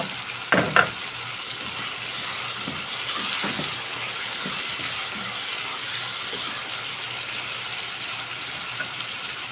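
Salt-and-pepper-seasoned sardines fry in a pan with a steady close sizzle, opening with a couple of sharp clinks of the pan or utensil before the frying settles into a continuous crackle.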